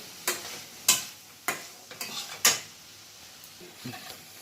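Fried rice masala stirred in a pan, a series of distinct spatula scrapes and knocks against the pan at an irregular rhythm over a faint sizzle, no voices.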